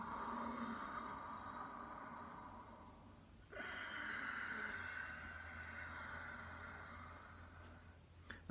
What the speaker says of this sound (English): Lovely, soft, silky, whistling ujjayi breath